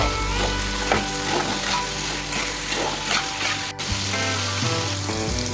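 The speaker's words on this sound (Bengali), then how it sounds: "এখন ফ্রাই করে রাখা আলু আর ডিম দিয়ে 2 মিনিট ভেজে জল দিয়ে দেব।" Fried potatoes and eggs sizzling loudly and steadily in spiced oil in a pan, close and continuous, with a few stirring scrapes.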